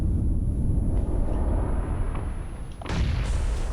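Grenades go off in a PUBG PC tournament match, heavy booming blasts with a deep low rumble and a sharper burst near the end, loud and close.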